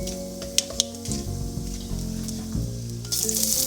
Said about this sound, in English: Let them be on high heat until they start spluttering and smoking